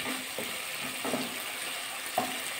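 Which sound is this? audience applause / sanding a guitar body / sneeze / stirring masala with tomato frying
stirring masala with tomato frying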